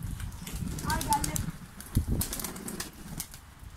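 A domestic pigeon flaps its wings as it lands at a coop, a brief flurry of flutters partly under nearby voices and other background sounds.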